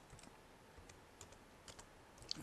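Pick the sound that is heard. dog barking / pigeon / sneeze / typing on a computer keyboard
typing on a computer keyboard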